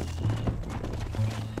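Horse hooves clip-clop in the Western video game Red Dead Redemption, a close, rhythmic plodding of a few steps over a steady low rumble, without speech.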